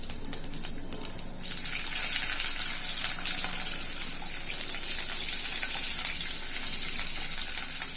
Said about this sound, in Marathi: आणि मिरच्या तळताना पण त्याच्यात किंचित मीठ टाकायचं